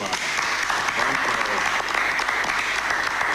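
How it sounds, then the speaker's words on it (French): An audience applauds the projects with a continuous, dense roar of clapping from many hands, steady and loud throughout with no pauses. "Est-ce qu'on peut applaudir pour ces projets?"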